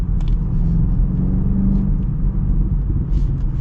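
A deep, throaty V8 engine in a 2025 BMW X7 M60i SUV rumbles and pulls hard as the vehicle accelerates, heard from inside the cabin.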